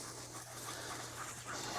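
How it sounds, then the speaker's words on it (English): Dachshunds panting on an outdoor walk, a steady, fairly soft breathy rhythm running the whole time over a constant low hum, with no talking. "Oh, here comes the dogs."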